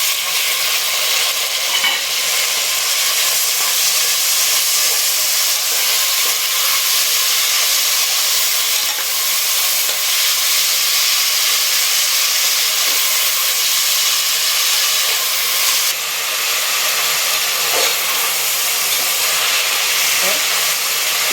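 Steady sizzling and bubbling of a fish curry with onion, tomato and chili powder simmering in a pan on the stove, continuous hiss with occasional soft pops and stirring, close by.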